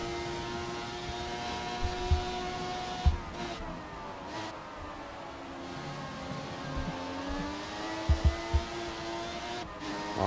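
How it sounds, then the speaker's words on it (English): Onboard a race car, the engine drones with a strong tonal whine whose pitch sags and rises as the driver struggles to get on the throttle out of a corner, with a few sharp knocks and bumps along the way. "You can hear him just struggling to get on the throttle off the exit"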